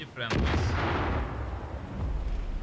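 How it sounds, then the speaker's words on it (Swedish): Gunfire in the video game Far Cry 5, a heavy booming shot followed by a long rumbling roll of continued fire and echo, with a voice talking briefly at the start. "Och där borta skjuts det."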